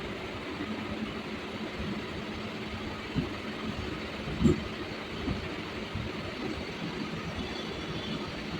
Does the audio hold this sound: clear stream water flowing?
no